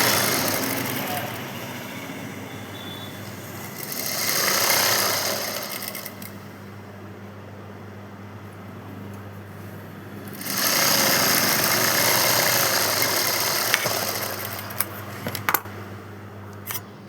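A domestic sewing machine stitches a folded lining along fabric piping in two sustained runs with a steady hum, pausing between them, followed by a few small handling clicks near the end.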